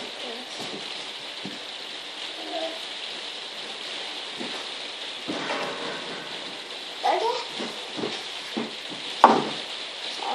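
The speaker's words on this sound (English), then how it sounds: "Sorry about the rain." Rain falling outside with a soft continuous patter and hiss, fairly faint, while a voice speaks briefly and small handling noises occur nearby.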